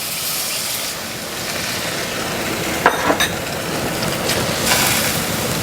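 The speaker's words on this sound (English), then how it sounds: "Now add my beef broth to this." Beef broth poured into browned flour in a pan for smothered fried pork chops, a steady hissing sizzle throughout with a few brief louder splashes and bubbles near the middle, no talking.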